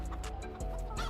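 Chickens in a video game clucking in short repeated bursts, several soft calls close together over a steady background.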